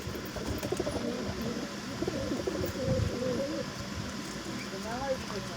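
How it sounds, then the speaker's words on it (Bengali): Pigeons from Kolkata coo at a bustling pigeon market: low, repeated burbling coos rise over a steady crowd murmur, with people talking nearby throughout. "দেখো আমার বন্ধুরা সব কলকাতার কবিতর এগুলো এসেছে, ভালো ভালো কবিতর আছে।"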